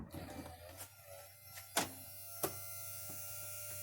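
Hydraulic pump on a BMW E61 Touring tailgate, exposed after a fluid fill, runs with a steady electric whine and hum, punctuated by a few faint clicks and knocks, quiet and close.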